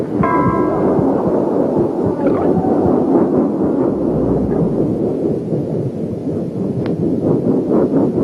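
Deep muffled rumbling and churning gurgles from inside a mother's body, as heard by a fetus, continuous and enveloping, with a brief faint tone near the start.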